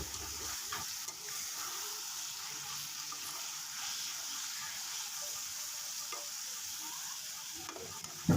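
A fish and potato curry simmers in a pan over medium heat, a faint even sizzle running throughout with soft scrapes from occasional stirring and a brief louder clatter at the very end.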